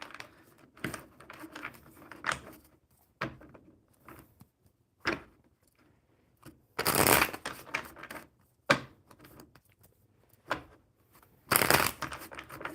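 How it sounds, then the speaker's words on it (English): Intermittent bursts of cards being shuffled and riffled, with sharp flurries and quieter gaps, close by and without speech. "All right, one more good shuffle, Suren."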